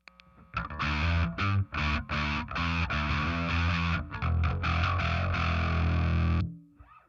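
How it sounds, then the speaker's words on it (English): A bass guitar played with a pick runs through a guitar distortion pedal set low yet heavily driven, giving loud, fuzzy, sustained notes in a chugging rhythm with brief gaps before it rings out and stops. "So I have that distortion set pretty low, and it's still driving that super hard."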